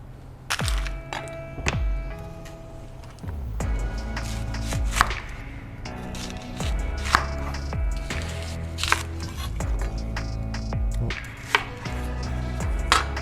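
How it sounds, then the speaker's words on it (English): A knife chops through onion on a cutting board, slicing it thinly for barbecue-style roasting, with steady repeated thuds and sharp cracks close by, broken by brief pauses. "Onions cut thinly in the roast style, how you usually do for a barbecue."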